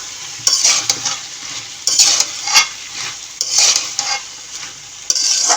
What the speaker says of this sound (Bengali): এখন আমি টমেটোগুলো দিয়ে দিচ্ছি, দিয়ে এটা আমি আবার নেড়ে ছেড়ে দেবো।